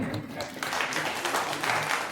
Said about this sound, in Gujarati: જોરદાર તાળીઓના નાદ સાથે સન્માનને વધાવીએ